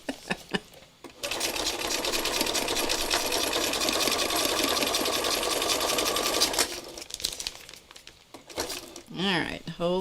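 A sewing machine stitches through an art journal with a loud, even mechanical whir lasting several seconds, close by, then stops, and a person talks before and after it runs.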